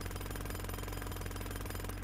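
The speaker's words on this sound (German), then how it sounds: "Oh, eine Baustelle." A road construction site with street repair work rumbles loudly and steadily in a cartoon street scene, a continuous mechanical hammering drone with no voices.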